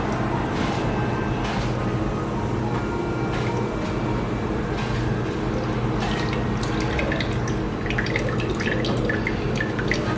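Rinse water trickles and drips steadily with faint splashes as it is poured off, a continuous liquid pour close by with no voices.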